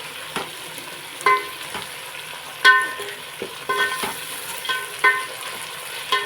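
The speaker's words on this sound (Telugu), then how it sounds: "అల్లం వెల్లుల్లి పేస్ట్ వేసేసుకున్నాం ఇది కూడా కలిపేసుకొని మనం శుభ్రంగా ఇప్పుడు" Ginger garlic paste is stirred into sizzling prawn biryani masala in a pan, with a low steady fry under a series of sharp spoon clicks and scrapes that come at uneven intervals, and no voices.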